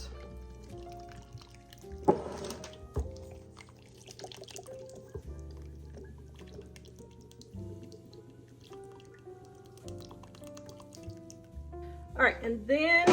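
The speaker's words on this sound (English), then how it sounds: "I'm going to pour in my tomato juice" Tomato juice poured from a shaken container into a chili pot, a soft liquid trickle and drip running for several seconds over low kitchen background, with a brief splash near the end.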